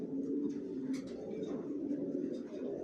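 Racing pigeons kept in a loft coo in a steady, overlapping murmur, many birds close together, continuous and moderately loud.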